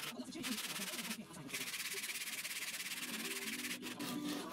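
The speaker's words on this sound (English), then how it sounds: "I sanded at 80 and then 120 grit using power sanders and then 240 grit by" Hand sanding a wooden bandsaw box with 240 grit sandpaper: a steady, quiet back-and-forth rubbing scratch that continues for several seconds with brief pauses, heard close and alone.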